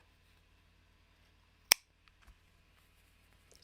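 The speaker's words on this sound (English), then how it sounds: "if there's excess, I will cut it off" A single sharp snip of scissors trimming excess yarn on a crocheted piece, close and quiet, followed by a couple of faint handling taps.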